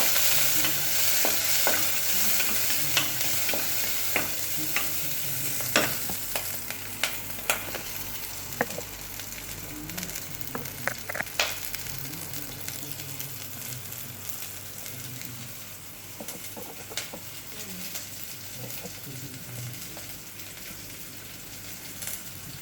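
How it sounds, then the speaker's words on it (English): Chopped onion frying in a pot for butternut squash soup, stirred throughout: a steady close sizzle with frequent sharp scraping clicks from the spoon, no voices. "I add my onion. Stir a bit."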